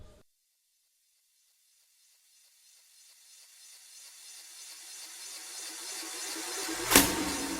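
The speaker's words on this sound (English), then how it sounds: "the very first one is the Amapiano impact sound, and then next up I added this ice crash sound" Amapiano-style impact and ice crash transition effects in an Afrobeats production: near silence, then a long noisy swell building steadily louder, peaking in a sharp bright crash near the end.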